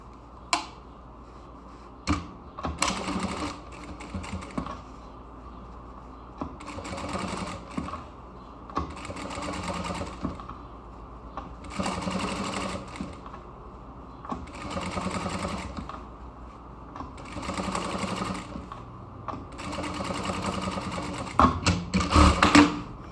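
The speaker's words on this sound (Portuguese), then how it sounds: "Vou passar uma costurinha de segurança, bem na beiradinha aqui, para segurar o zíper." A sewing machine stitches a zipper onto tricoline cotton fabric, running in repeated bursts of rapid mechanical whirring separated by short pauses and small clicks, close and clear throughout.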